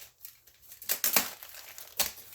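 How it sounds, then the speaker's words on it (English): A comic book is slid out of a plastic bag, giving quiet, close crinkling and rustling with a few sharper bursts of plastic handling. "So I'll take it out of the plastic bag."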